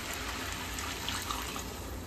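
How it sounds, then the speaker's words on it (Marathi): Hot water pours into a pot of prawn pulao with soaking rice, a steady close gushing flow that runs without a break and without any talking. "आता आपण याच्यामध्ये गरम पाणी घालूया."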